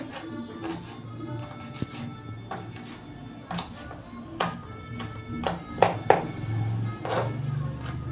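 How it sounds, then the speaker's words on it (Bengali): Green chili being chopped with a knife on a board, irregular sharp taps spread through the clip over faint kitchen background and some speech. "লঙ্কাটা একটু কুচিয়ে নিচ্ছি"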